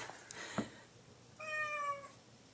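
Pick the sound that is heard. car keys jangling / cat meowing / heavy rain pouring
cat meowing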